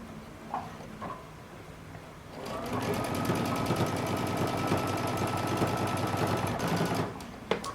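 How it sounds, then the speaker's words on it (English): A sewing machine stitching close to the edge of a cape's facing fabric, starting after a few quiet handling sounds and running in a fast, even, loud mechanical rattle for about five seconds before stopping. "we're going to stitch really close to the edge on the facing"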